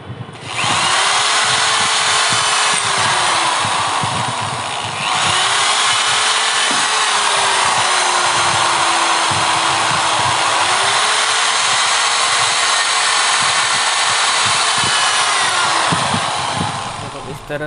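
An electric drill bores holes into a wooden block. It whines loud and close in several runs, its pitch rising and falling as the bit loads up and frees.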